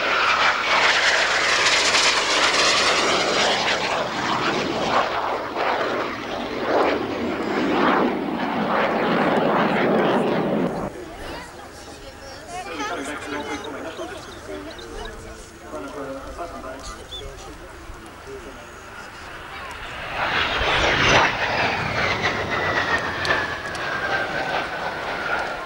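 A BAC 167 Strikemaster jet trainer roars loudly nearby at Ardmore, Auckland, fades to a quieter stretch, then swells again as it passes; someone talks over the engine noise.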